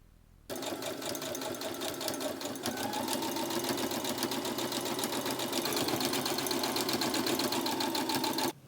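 A sewing machine stitches along a crease in bias tape, starting abruptly and running at a fast, even, continuous whir of needle strokes, close and loud, without pauses until it stops at the end.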